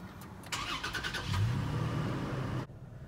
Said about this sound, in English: Listen to how it sounds when it revs up.